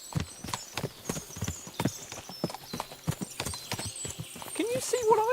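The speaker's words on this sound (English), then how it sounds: "What a lot of horses!" Horse hooves clip-clop in the video game Kingdom Come Deliverance 2, a steady run of distinct hoof strikes on hard ground, with a short neigh near the end.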